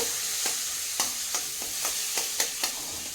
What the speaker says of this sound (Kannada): ಒಂದೇ ಒಂದು ಟೊಮೆಟೊ ಹೆಚ್ಚಿಟ್ಕೊಂಡಿರೋದನ್ನು ಹಾಕ್ತಾ ಇದ್ದೀನಿ ಚೆನ್ನಾಗಿ ಬಾಡ್ಕೋಬೇಕು